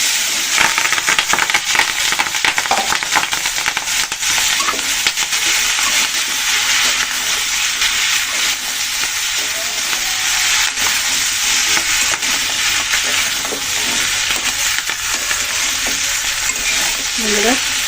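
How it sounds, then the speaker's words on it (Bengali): Onion stalks fry with turmeric in hot oil, giving a loud, continuous sizzle and hiss that lasts throughout, with faint stirring scrapes now and then. "হলুদ দিয়ে এখন আমি পেঁয়াজের কলিগুলো দিয়ে দিচ্ছি।"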